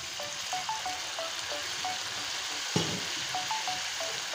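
A spice paste with turmeric sizzles in a pan as a little water is added, a steady frying hiss with a sharp burst of spattering partway through and faint repeated clinks over it.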